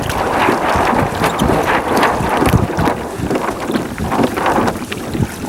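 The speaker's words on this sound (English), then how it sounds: "Oh yeah, picked up wind already." Strong wind roars across the microphone while sailing a Hobie Tandem Island on open water, a loud continuous gusty rush with rhythmic water slaps against the hull.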